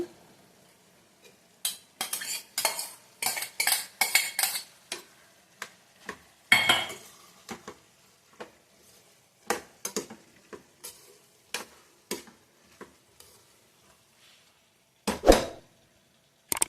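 Soaked dal going into a pan for rice upma (akki tari uppittu), with metal spoon scrapes and stirring clinks in bursts, some faint sizzling, close and moderately loud with no talk.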